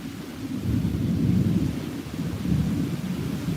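Thunder from a summer thunderstorm over Tulsa, Oklahoma, a low continuous rumble that swells and rolls for several seconds with rain underneath, heard from a front porch and free of speech.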